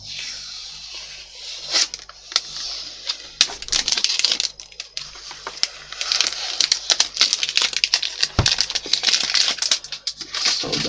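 Packing tape being peeled off an Oculus Go 64GB VR headset gives a quick run of sharp crackles, ticks and ripping bursts, close and irregular, with no voices.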